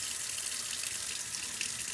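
Warm tap water runs steadily from a faucet for washing vinyl records, a continuous close hiss of flowing water throughout with no talking.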